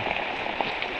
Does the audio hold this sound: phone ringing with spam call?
no